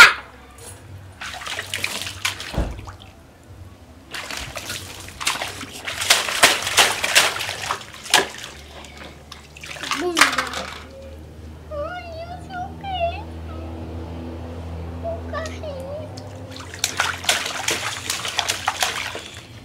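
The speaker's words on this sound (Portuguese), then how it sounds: "Você tá tirando a água toda, Gui, da banheira." A child splashing water out of a home bathtub in bursts of sloshing and pouring, close and moderately loud, separated by pauses with a voice and adult talk in between.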